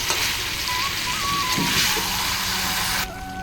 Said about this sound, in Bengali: মাংস রান্নাটা বসিয়ে দিই তো দেখো মাংসটা আমি বসিয়ে দিয়েছি